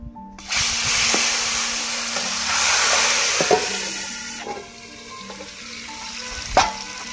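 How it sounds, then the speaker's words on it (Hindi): A sudden burst of sizzling as fenugreek seeds hit hot oil for tempering greens, a loud steady frying hiss that eases off, with a few clinks. "इसमें मेथी का तड़का लगेगा।"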